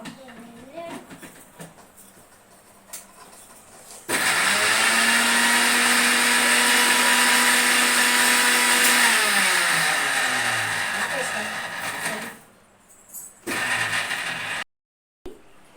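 A mixer grinder whirs loudly and steadily for about eight seconds as it grinds a paste for ivy gourd curry, its pitch sagging as the motor winds down. A brief second burst follows, with faint household voices before it.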